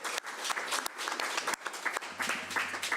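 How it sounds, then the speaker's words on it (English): Audience at a community committee meeting applauds to welcome the new pool director: a dense, continuous wash of many hands clapping, fairly close, with a faint low hum rising near the end. "can we have a warm round of applause to welcome her to the scene?"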